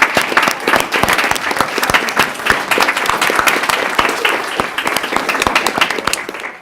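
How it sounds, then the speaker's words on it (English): An audience at a school board meeting applauds students' family members, a dense, loud, sustained burst of clapping from many hands that fades slightly at the end. "can I have all the family members stand up so we can give you a round of applause as well"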